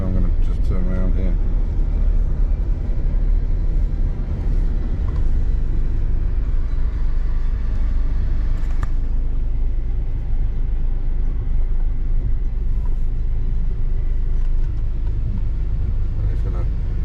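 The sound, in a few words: van towing a big trailer turning around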